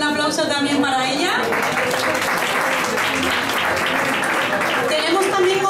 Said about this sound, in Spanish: Desde aquí le pido un aplauso también para ella.